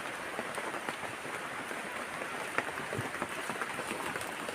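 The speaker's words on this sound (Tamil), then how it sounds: "அந்த நேரத்தில் வந்து மழை வேற பெய்ய ஆரம்பிச்சிச்சிங்க" Rain falling on a hill farm near Kodaikanal, a steady dense patter with scattered sharper drops, moderately loud and continuous with no talk.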